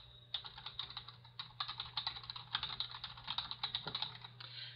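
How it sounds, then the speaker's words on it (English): Rapid, steady typing on a computer keyboard, close and alone, with clustered keystroke bursts and brief pauses over a low electrical hum. "I'm going to go ahead and type the text that I want to link to"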